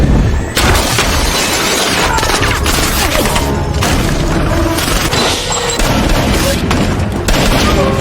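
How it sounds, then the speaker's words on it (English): Loud, chaotic action-movie gunfire with booming blasts and crashing impacts, continuous over several seconds with a dense, cluttered mix. "While gun battles were going on downstairs"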